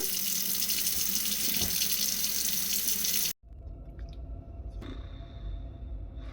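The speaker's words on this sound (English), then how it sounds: "just rinse that thoroughly until there's no more suds" Steady running tap water splashes into a sink as makeup brushes are rinsed of suds, loud and close, then briefly cuts off and resumes with a softer flow and wet squishing.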